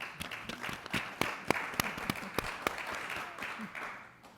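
Audience applause at a civic talk on homelessness solutions, a thin patter of scattered claps that stays fairly soft and steady throughout.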